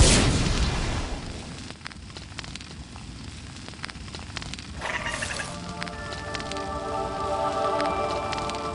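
Dragon egg hatching in a fireplace fire in a Harry Potter video game: crackling flames with pops and bursts, then a brighter cracking and shimmering tonal chime as the egg breaks open, moderately loud and without talk.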